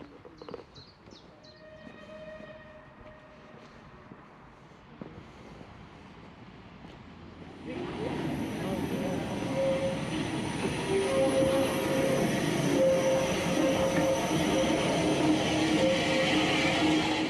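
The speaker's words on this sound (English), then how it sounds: "I can hear there's a train coming" A train on the Swanage Railway draws in after a quiet spell, a broad rumbling roar that swells suddenly and stays loud and close, with a few high tonal squeals riding over it.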